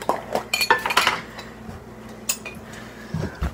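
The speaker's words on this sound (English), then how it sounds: "Oh, I'll grab a spoon." A spoon picked up amid dishes and cutlery, a quick cluster of close metallic clinks and clatters at the start, then quieter handling with a couple of scattered clinks later.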